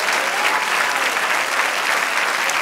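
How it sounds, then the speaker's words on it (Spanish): A church congregation applauds during a Spanish-language sermon, dense continuous clapping sustained evenly throughout, fairly close and full. "Dele aplauso al Señor."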